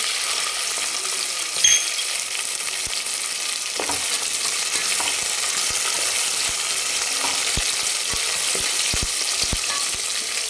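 Peanuts and soaked peas fry in hot oil in a pan, with a steady close sizzle and hiss and scattered sharp clicks and scrapes of stirring.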